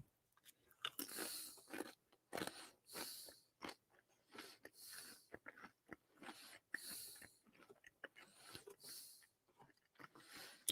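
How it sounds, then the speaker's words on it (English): A person chews food right beside the microphone, making a long run of crunchy, wet bites and mouth sounds in an uneven rhythm, with no talking. "I know this is rude chewing food, but nobody's here."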